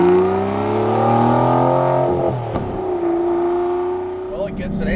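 An Aston Martin V12 Vantage S with a manual gearbox revs while driving, its engine note rising and holding loud and close, then dipping around a gear change before pulling again.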